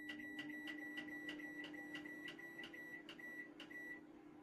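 An oven timer being set with four eggs inside: about a dozen short, evenly spaced electronic beeps over a faint low hum, then quiet.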